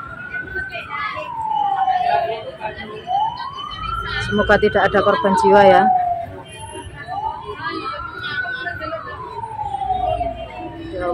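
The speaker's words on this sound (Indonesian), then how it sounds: "Kira mobil pemadam kebakaran sudah datang." A wailing emergency siren, taken for a fire engine responding to a blaze near a morning market, sweeps up and down in long slow cycles, fairly loud and close, with a burst of clatter midway and people talking over it.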